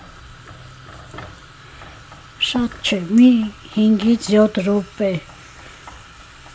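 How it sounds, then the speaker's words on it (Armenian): Vegetables and peppers sizzle steadily in a frying pan as they are stirred while a turkey breast dish in Indian sauce is cooked. A voice speaks clearly over the frying partway through. "այսպես տապակում եմ բանջարեղեն, ընդամենը քիչ տապակվի"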